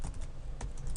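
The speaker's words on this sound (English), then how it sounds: "You can probably hear my keyboard" A brief burst of typing on a computer keyboard, several quick soft keystrokes in an irregular rhythm, close and fairly quiet with no talking.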